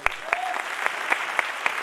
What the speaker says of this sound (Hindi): मेरे भाई के लिए तालियां बजाइए।